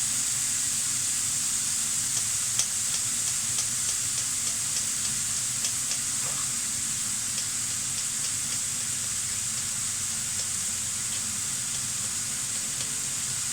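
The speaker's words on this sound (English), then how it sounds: "This is where we put the garlic in now." Garlic sizzles and fries steadily in a hot pan for a roasted vegetable, beef and bean dish, a constant hissing crackle with occasional small pops and no voices.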